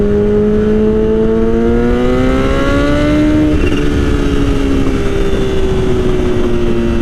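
A Kawasaki Ninja H2 supercharged motorcycle pulls under throttle, its engine note climbing steadily in pitch, easing briefly, then holding a strong, continuous, close-up drone with wind noise throughout.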